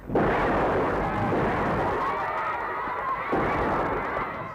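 Gunshots fired on command, a loud, continuous blast-like roar sustained for several seconds with a renewed surge near the end, without talk.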